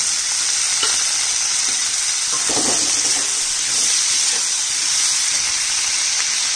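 Capsicum, tomato and chopped onion frying in a pan, a loud steady hiss of sizzling with steam and a couple of brief stirring scrapes, close and without speech.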